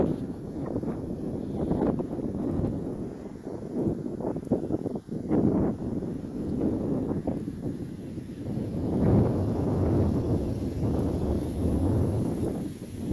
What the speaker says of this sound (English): There's probably noise, it's kind of windy